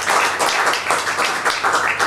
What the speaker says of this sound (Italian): Farei un grande applauso a Shel Shapiro.